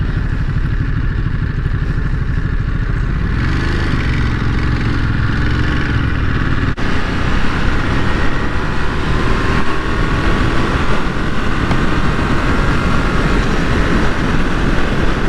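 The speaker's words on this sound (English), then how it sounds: "Just love the sound of this bike." A 2022 Ducati Monster 950 engine rumbles steadily and loudly from close by, with a throaty, continuous tone that shifts slightly as revs change while riding.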